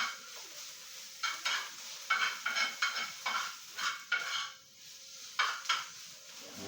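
Spoon scraping and stirring tuna croquette mixture with onion in a pan, repeated rhythmic scrapes every half second or so, close and fairly soft, with no talking.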